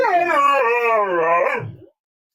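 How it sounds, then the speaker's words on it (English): Dogs indoors reacting to foxes outside, heard as one drawn-out, wavering howl-whine that is loud and close and fades out after about two seconds. "that's my dogs reacting to the foxes outside"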